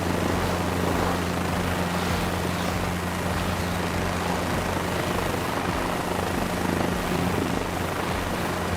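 In Microsoft Flight Simulator 2024, an aircraft engine drones loud and steady near the ground with a throbbing low hum, shifting only slightly as the throttle changes.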